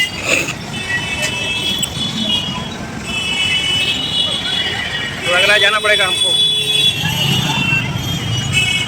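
Busy road traffic rumbles steadily as vehicles pass close by, with a horn toot partway through, under continuous talking.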